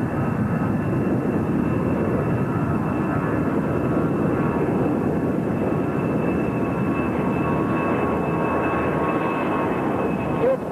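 A Beriev A-40 Albatros jet seaplane accelerates across the water for takeoff, heard from inside as a loud, continuous engine roar and rumble with a steady whine throughout.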